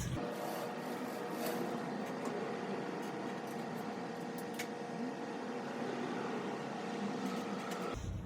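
Continuous close scraping and rasping as a hand pick grinds open a hole in fiberglass on a Porsche 550 Spyder front hood, steady and gritty for several seconds with no voices.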